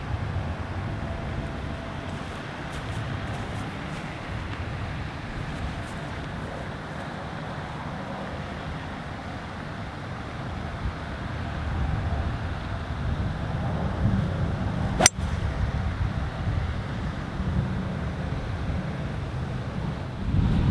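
Steady headwind blowing across a golf course, a loud continuous roar of wind buffeting the microphone, rising slightly toward the end with one brief sharp click midway.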